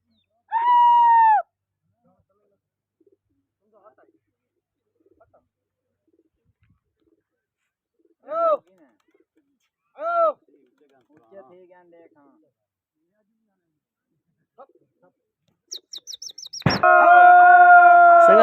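Pigeons coo in separate low, soft calls with long pauses between them, then a burst of louder fluttering and mixed bird calls near the end.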